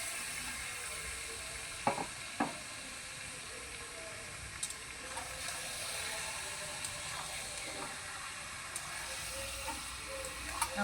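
Marinated mutton hits hot oil with reddish-fried onions in a pan, giving a steady loud sizzle and hiss throughout, with a few sharp clacks of a spoon stirring.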